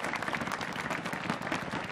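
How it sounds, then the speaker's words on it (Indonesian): Audience applause at a stand-up comedy show, steady dense clapping filling the full two seconds at an even level, with no pauses or talk over it. "Tepuk tangan boleh."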